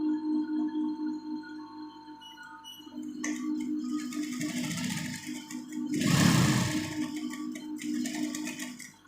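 A sewing machine with a gathering foot stitches fabric in bursts, its running whir rising and falling with a louder stretch midway, close by over a steady motor hum.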